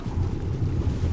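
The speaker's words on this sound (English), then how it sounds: "Let's go under the water." Muffled underwater rush in the video game Ark Astraeos as the player plunges beneath the water, a dense low rumble with a washy, wind-like hiss throughout.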